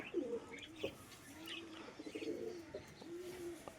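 A pair of Andhra Madras pigeons coos in repeated soft, low rolling calls, close by and fairly quiet, with a few brief chirps between them.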